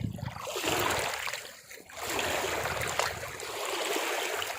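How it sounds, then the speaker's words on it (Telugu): Small waves at the Gundlakamma reservoir near Ongole wash steadily against the shore in a continuous, close, hissing rush that dips briefly and then returns. "సో ఇలా అలలు ఒడ్డుకి తాగుతూ ఉంటాయి"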